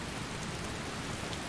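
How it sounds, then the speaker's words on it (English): Heavy rain pours steadily in Skyrim Special Edition, a dense, even hiss filling the whole stretch with no breaks and no voices. "it's pouring rain"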